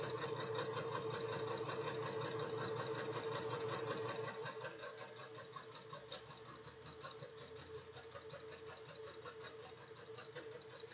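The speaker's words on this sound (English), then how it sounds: "And sew them together." A sewing machine stitches cotton pieces together in a steady, fast, continuous mechanical whir with rapid needle ticking, running close and unbroken, slightly softer in the second half.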